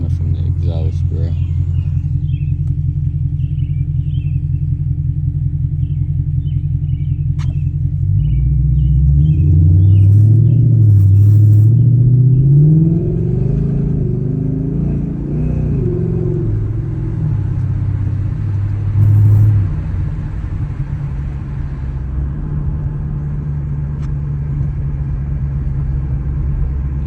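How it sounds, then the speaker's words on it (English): A Ford Mustang GT V8 driven in the rain, heard from inside as a deep, steady engine rumble that swells under acceleration midway, with someone talking over it. "Get y'all what it's like to drive a V8 in the rain."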